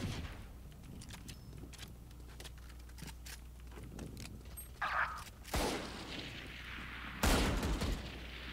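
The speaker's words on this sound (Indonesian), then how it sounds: "cuma tembak-tembakan doang tahu lah" Rapid gunfire bursts and booms from the Valorant video game, a run of clattering shots followed by a few loud explosive blasts, with no voices.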